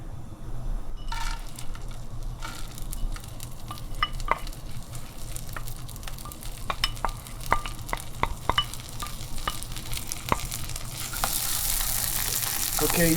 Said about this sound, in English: we are going to saute this after it melted the butter, and make it ready and put it aside